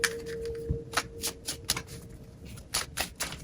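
Tarot cards shuffled and drawn by hand, a run of crisp papery flicks and slaps in irregular bursts, close and fairly quiet, with a steady faint hum underneath.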